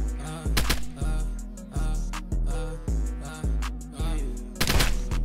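Gunfire rings out in the online survival shooter Apocalypse Rising 2: about eight loud, close single shots, evenly spaced roughly half a second apart, each with a ringing, decaying tail.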